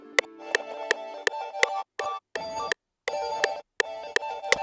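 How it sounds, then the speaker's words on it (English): A hard ambient beat with rhythmic volume chops across the whole mix, so steady clicky hits and a tonal bed drop in and out in short gated bursts with brief silences between. "chops on the beat, like the entire beat"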